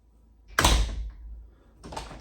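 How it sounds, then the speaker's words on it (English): A second French door swung shut, a single sharp thud with a short rattle trailing off, followed by a softer knock or bump a moment later, close by and without speech. "And then when you shut this one"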